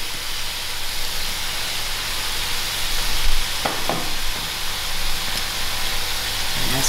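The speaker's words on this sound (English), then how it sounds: "I will allow this to fry out. It's very important to fry out your meat." Lamb pieces frying in a pot for Durban-style dhal gosht, a loud continuous sizzle and hiss with occasional stirring knocks, close and steady throughout.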